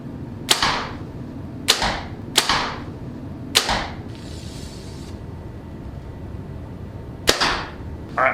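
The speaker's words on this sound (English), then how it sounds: "I'll shoot this bow and then I'll shoot the new V3X right next to it" Five crisp shots from a 2022 Mathews V3X compound bow fire one after another at uneven intervals, each a sharp close snap with a short whooshing tail, and no speech between them.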